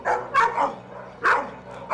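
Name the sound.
dogs barking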